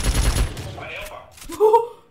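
Gunfire in a Roblox first-person shooter styled after Valorant, heard as a brief rapid burst of shots at the start, followed by players talking.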